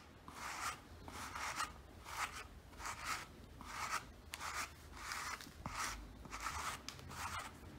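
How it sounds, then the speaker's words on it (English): A brush swept back through hair dusted with keratin hair thickening fibers, giving soft, close rhythmic rubbing strokes, about ten in a row at a steady pace, quiet and alone. "I'm just gonna brush back here, and all the keratin fibers are gonna fill the hair out"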